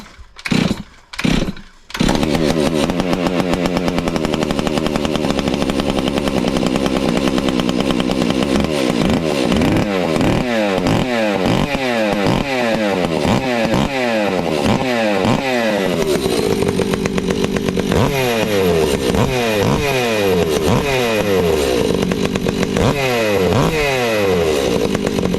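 Stihl MS362C chainsaw fitted with a bark box muffler mod, three sharp starter-cord pulls, then the engine fires and runs loud and close, revving up and down repeatedly before settling at a steady high rev.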